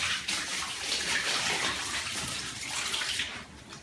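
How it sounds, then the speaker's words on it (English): Water is poured onto a balcony floor for cleaning, a steady splashing gush lasting a few seconds before tapering off, close and fairly loud. "So I put some water"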